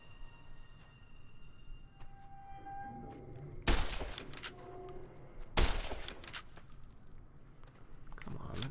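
Gunfire in the video game Fallout New Vegas: two sharp, loud bursts of shots with ringing metallic decay stand out over quieter game ambience and scattered electronic tones.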